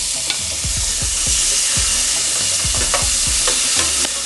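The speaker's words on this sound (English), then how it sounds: "And we're just going to let them render, because that's what you do with pork fat and salt beef." Salt pork and salt beef render in a frying pan with a loud, steady sizzle, broken by repeated scraping and stirring knocks from a utensil.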